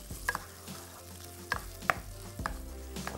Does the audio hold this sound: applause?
no